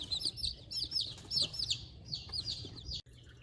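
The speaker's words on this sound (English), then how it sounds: "That's one of the chicks that was helped out of the egg." Baby chicks, one of them helped out of its egg, peep in rapid high-pitched repeated chirps, close and clear, cutting off abruptly near the end.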